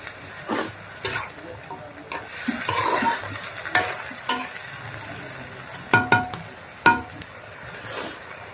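A curry cooking in a pan in a home kitchen, with faint sizzling underneath and intermittent sharp clinks and scrapes of a spoon stirring against the pan at irregular intervals.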